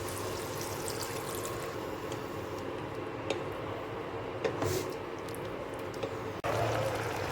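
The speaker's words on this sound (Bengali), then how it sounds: "এবার জল দিয়ে দেবো।" Water poured into a pan of prawn curry cooking with cashew paste, a steady quiet trickle and pour running for several seconds with faint clinks, ending with a brief louder splash near the end.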